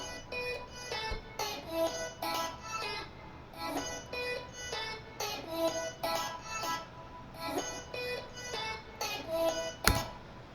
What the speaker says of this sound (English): So the main elements here are these vocal chops,